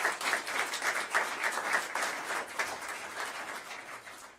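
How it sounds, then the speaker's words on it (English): A room at a school district board meeting breaks into lively applause, many hands clapping in a dense patter that swells and then tapers off toward the end, fairly distant and moderate in level. "greet him with a loud applause"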